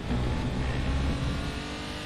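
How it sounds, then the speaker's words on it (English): A Porsche Cayman GT4 in a racing video game at the Nürburgring, its engine droning steadily and loudly from onboard, with a continuous low rumble throughout and no talk. "In his new Porsche Cayman GT4"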